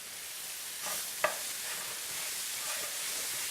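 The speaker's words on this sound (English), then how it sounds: "So we're going to just mix that all in here." A spoon stirs browning ground beef with onion and garlic in a pan for beef stroganoff, a soft steady sizzle with brief scraping strokes and one sharp clink of the utensil against the pan.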